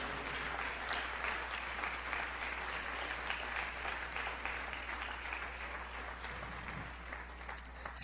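Steady applause fills a church as the congregation claps for God, a continuous even patter of many hands, fairly soft and unbroken for about eight seconds.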